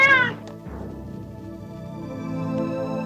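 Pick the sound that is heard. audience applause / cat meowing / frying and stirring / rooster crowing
cat meowing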